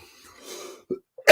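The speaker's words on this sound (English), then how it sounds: "Still couldn't work that cough out of there" A single short cough, preceded by a faint throat sound and quiet breathing, close and alone.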